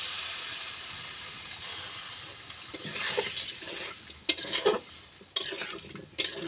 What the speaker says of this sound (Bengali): দিয়ে আমি ভালো করে আলুটা কষিয়ে নেব